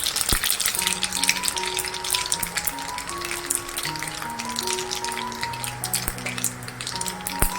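Mustard seeds sputter in hot oil with a dense, irregular crackle of sharp little pops over a constant frying hiss, and gentle background music plays underneath.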